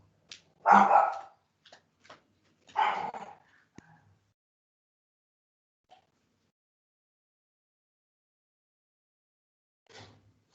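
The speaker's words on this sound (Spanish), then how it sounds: "Disculpen que a mi perrito le da una crisis de ansiedad" A small dog has an anxiety episode, letting out two sharp bursts of barking with short yips between them. A faint last bark follows after a long quiet gap, and the whole scene is close and indoors.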